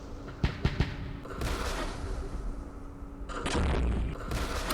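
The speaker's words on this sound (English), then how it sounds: "Lots of artillery." Artillery barrage in the Vietnam war strategy game Campaign Series Vietnam, set at Dien Bien Phu: three sharp close shots open, then a sustained rumbling roll of distant fire and booms, with no talk over it.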